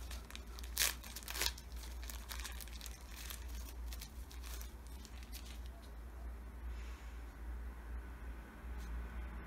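Paper crinkles and rustles continuously as a package is unwrapped, close and steady with a few sharper tearing bursts, over a low constant hum and no talk.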